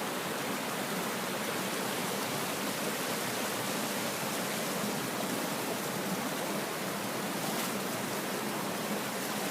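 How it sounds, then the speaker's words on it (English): Steady, dense rush of a flowing creek in Sawtooth Canyon, a broad even hiss of water running unbroken and close by, with no voices over it. "And here's the creek."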